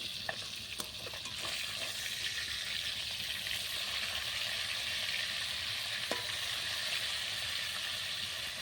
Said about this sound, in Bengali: মাছগুলো এদিকে ভাজতে থাকে